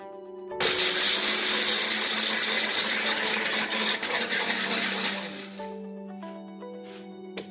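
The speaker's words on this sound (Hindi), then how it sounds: "मैं ब्लेंड कर लेती हूँ" A kitchen blender whirs loudly and steadily for about five seconds as it blends almonds with water, then spins down and stops, leaving a low hum.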